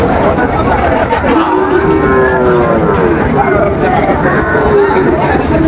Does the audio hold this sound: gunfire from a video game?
no